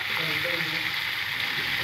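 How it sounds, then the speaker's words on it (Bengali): Onion, garlic and chicken fry in a pan with a steady, even sizzle throughout, close and continuous with no pauses. "পেঁয়াজ রসুনটা ভালো করে ভাজা হোক"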